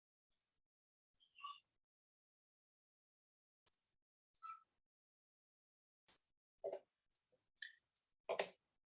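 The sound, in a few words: computer mouse clicking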